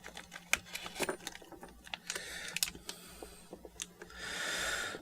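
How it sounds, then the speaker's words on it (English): Small parts and screws for a Caddx Turbo Micro S2 camera mount tumble out of a packet, a scattered series of light clicks and ticks with crinkling plastic, quiet and close. "So we'll dump it all out."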